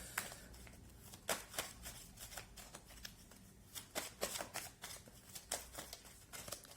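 Tarot cards are shuffled by hand in a quiet room, giving a run of crisp riffling and slapping bursts at an irregular rhythm, close and clear with no talking.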